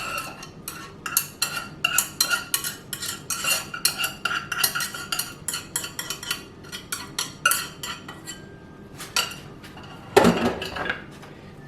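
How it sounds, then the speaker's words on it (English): A spoon scrapes and clinks steadily against the side of a pot while creamy chicken and wild rice soup is stirred, with a louder clatter near the end. "Now we'll give that a stir"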